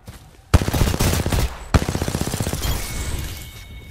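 Rapid automatic gunfire crackles loudly in a video game battle, with two sharp bursts of fast, evenly spaced shots and a trailing rattle.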